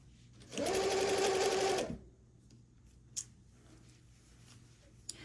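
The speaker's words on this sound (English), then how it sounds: "You wanna start, back tack, and just sew it around." A sewing machine stitches belts onto leather sleeves in one loud, rapid run of just over a second, then stops, leaving quiet room tone and a few light clicks.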